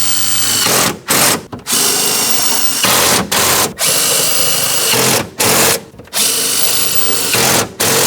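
Power tool tightening 10mm mounting nuts onto studs in the trunk of a 2003-2007 Cadillac CTS during a rear shock absorber replacement, with loud, close bursts of whirring that stop briefly and start again several times.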